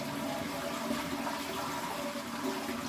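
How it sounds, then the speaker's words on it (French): A Geberit wall-hung toilet flushes with a steady, dense rush of water pouring through the bowl, loud and close, holding constant for the whole stretch. "Puis on appuie sur le bouton de la chasse d'eau,"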